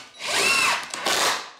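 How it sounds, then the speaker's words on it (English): A power drill drives a 3-inch screw into a 2x4, a rising whine that dips briefly midway and then spins up again before stopping. "I'm gonna go ahead and drive in"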